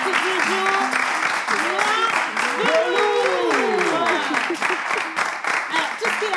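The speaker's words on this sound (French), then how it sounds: "On va tous applaudir très fort notre artiste du jour" Applause from a live audience greeting the day's guest artist on a French talk show, steady clapping throughout with overlapping voices, whoops and tonal sounds layered on top.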